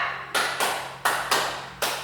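Five sharp hand claps in an uneven pattern come close and clear in a quiet classroom, demonstrating a counted clapping routine.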